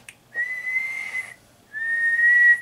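Two sustained tones whistled into the microphone of a Tram D201 Red Diamond radio, each about a second long, separated by a brief pause; steady pitch, fairly clear and close, with no talking.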